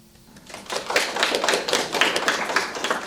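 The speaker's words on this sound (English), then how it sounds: "I like lots of applause, and let's hear those." Audience applause welcomes participants at an academic conference session on environmental literatures. Quiet for the first half second, it then swells into brisk, crisp clapping from a modest crowd that stays steady and fairly close to the end.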